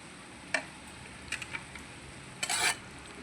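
Brinjal and tomato curry stirred in a pan, a few scraping clicks of the spoon against the pan over a quiet background hiss, the last stroke longest.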